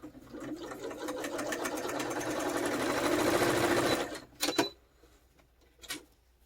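A sewing machine stitches around a journal signature, a fast steady mechanical whir that runs for about four seconds, then stops, followed by a few short clicks and handling knocks.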